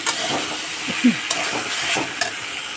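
Spice masala fries in oil in a pan while a spoon stirs it, producing a soft continuous sizzle broken by a few distinct scraping strokes, close and fairly clear.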